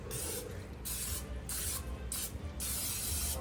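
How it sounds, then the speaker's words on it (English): Light bursts from a spray can used while cooking bacon mac and cheese, several short hissing sprays in an uneven rhythm, close and fairly quiet, with no talking over them. "let's spray it lightly"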